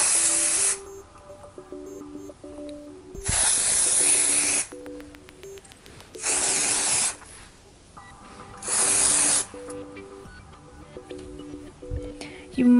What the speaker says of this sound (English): This one is by L'Oreal and it's called the Techni Art Fresh Dust Dry Shampoo. Just shake it really well and spray it on your roots.